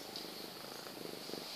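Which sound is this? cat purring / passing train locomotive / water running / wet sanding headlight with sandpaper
cat purring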